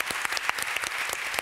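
Warm audience applause thanks a panel at an academic conference on sustaining democratic development. The clapping is steady and dense throughout the short stretch, with no talk over it.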